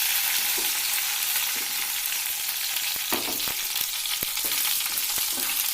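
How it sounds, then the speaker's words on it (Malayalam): Curry leaves dropped into hot coconut oil give a steady, loud sizzle and crackle, with a few sharp pops and spatters rising above the continuous frying hiss. "അതിന് ശേഷം കുറച്ച് കറിവേപ്പില ചേർത്തി കൊടുക്കാം."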